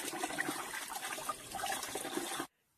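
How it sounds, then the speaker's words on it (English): Water runs steadily over reusable cloth pads during a final rinse, a continuous close splashing flow that stops abruptly, leaving near silence. "use running water for the final rinse to ensure the pads are clean"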